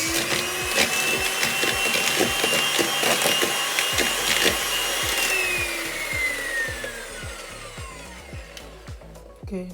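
Egg yolks being mixed one at a time into cake batter in a bowl, heard as a close, rhythmic scraping and knocking of the utensil with a continuous gritty rub and no talking.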